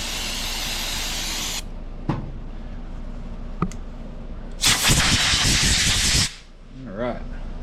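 Compressed air blasts from a nozzle clean debris off a Metabo HPT NV45AB2 nailer during a rebuild: a steady loud hiss, a couple of sharp pops, then a second strong burst of several seconds before it cuts off.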